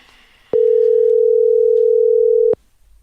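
A steady telephone dial tone sounds loud and alone for about two seconds, cutting in sharply and stopping abruptly as a call is placed from a phone set in the middle of a table, with faint room noise before and after.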